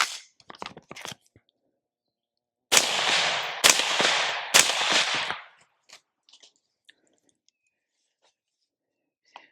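Three suppressed gunshots fired through a Breek Arms suppressor, each a loud sharp crack with a short decaying tail, preceded by small mechanical clicks and handling noises and followed by faint ticks and near silence.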